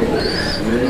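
A pigeon coos steadily up close while feeding its chick, a low soft murmur continuing through the short moment without pause.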